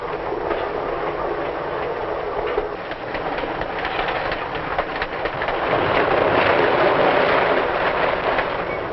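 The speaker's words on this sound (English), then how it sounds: "the train speeds toward the sunset" A 1950s passenger train rolls along the tracks at speed, a steady loud rumble with rhythmic wheel clatter that swells slightly toward the end, with no voices.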